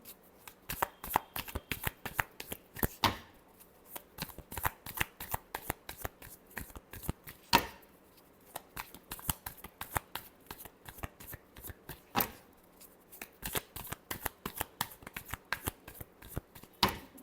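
A deck of cards being shuffled close by, a long run of rapid crisp riffling flutters and snaps repeating in quick bursts throughout, quiet and alone.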